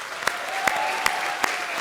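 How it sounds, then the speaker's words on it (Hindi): A studio audience at a comedy show cheers a performer with loud, dense applause, the close, continuous clapping carrying a few sharper individual claps at a steady pulse. "तो भाई हमारे आज के सुपरस्टार राजा के लिए एक बार जोरदार तालियां हो जाए"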